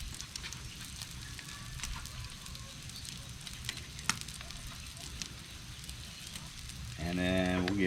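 Smash burger patties searing on a hot griddle, a continuous mid-level sizzle with scattered pops, ending with a louder burst of noise and a voice.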